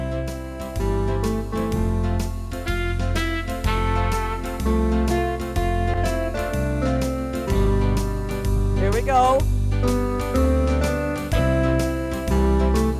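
An instrument plays the closing measures of a song in steady rhythmic chords over a bass line, loud and continuous, with a brief spoken phrase near the start.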